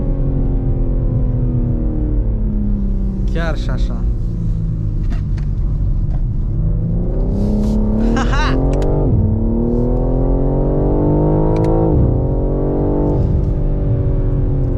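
BMW M3 Touring engine and sport exhaust revving on a public road, a loud continuous rumble with rising and falling pitch sweeps as the throttle is blipped, with someone talking over it.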